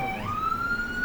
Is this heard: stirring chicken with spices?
no